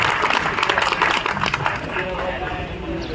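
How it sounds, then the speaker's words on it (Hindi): Crowd clapping at an outdoor flag-hoisting ceremony held by traders in Ulhasnagar, a dense, steady patter of many hands with a voice talking over it throughout. "उनके लिए जोरदार ताली"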